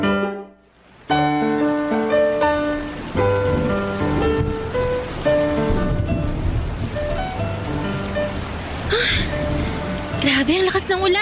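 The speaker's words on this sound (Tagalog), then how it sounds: "Grabe, ang lakas ng ulan." Heavy rain pours steadily, a dense broadband hiss that starts after a second of near silence and runs under a prominent music bed throughout.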